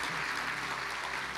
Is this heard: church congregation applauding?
yes